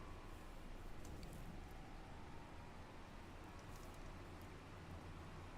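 Steady rain falls in Farming Simulator 25, a soft continuous hiss of drops with a low rumble underneath, fairly quiet and even throughout with no voices.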